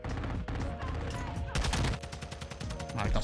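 Rapid automatic gunfire in Call of Duty MWII rattles in loud, fast bursts through a busy multiplayer match, with a brief pause before a denser stretch of shots.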